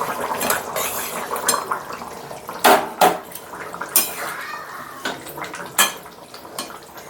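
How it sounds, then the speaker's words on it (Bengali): Fried fish pieces slide into a simmering taro curry gravy in a metal pot, with sharp clinks of a utensil against the pan at a few moments over a soft bubbling background. "ভেজে রাখা মাছ চলে যাচ্ছে ঝোলে।"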